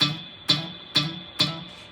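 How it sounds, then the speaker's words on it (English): Four quick plucked guitar notes, each a hammer-on grace note ornament, land evenly about half a second apart. Each is a sharp, bright attack that fades quickly, played close and on its own. "So a grace note sounds like this."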